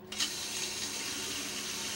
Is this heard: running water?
yes